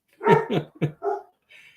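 Dogs bark close by in a quick burst of four sharp barks, followed by a fainter higher whine at the end.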